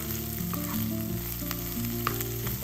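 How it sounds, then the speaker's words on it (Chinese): Sliced Chinese sausage and dried shrimp stir-fried in a hot oiled wok for taro cake, with a steady loud sizzle and a few scraping spatula strokes throughout. "把切好的腊肠放入锅中炒香，倒入适量的虾皮或者是虾米，快速翻炒"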